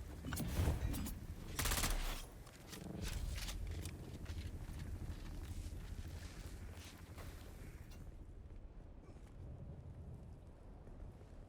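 A video game vehicle's main cannon fires in heavy, booming blasts during the first couple of seconds, followed by a long, low rumbling tail that slowly fades.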